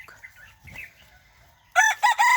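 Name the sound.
chicken clucking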